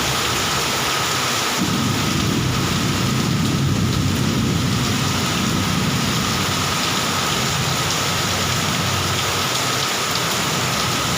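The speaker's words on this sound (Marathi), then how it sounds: "बघा मोठा पाऊस पडतोय" Heavy rain pours down steadily and loudly, with a deep rumble of thunder rolling underneath for several seconds.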